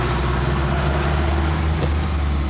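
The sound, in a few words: tractor mowing roadside ditches in Austria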